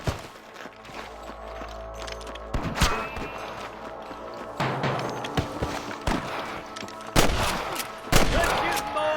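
Gunfire in a Red Dead Redemption shootout against snipers: repeated sharp shots and bursts, some loud and close, others farther off, over a low rumble and scattered background noise, with hoofbeats possible.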